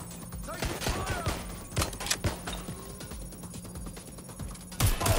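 Gunfire in the video game Watch Dogs: Legion, a run of sharp shots and bursts that repeat unevenly over game ambience, close and fairly loud, with a louder burst near the end.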